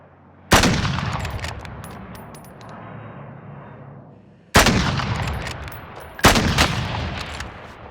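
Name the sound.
gunfire in Call of Duty Warzone video game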